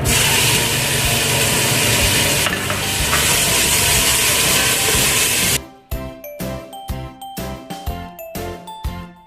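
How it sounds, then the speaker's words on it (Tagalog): Onions fry in hot oil in a pan, a loud, steady sizzle for several seconds, then a series of rhythmic metallic clinks and dings as a utensil stirs against the pan. "nalagyan ko na ng mantika, so isusunod natin ang sibuyas"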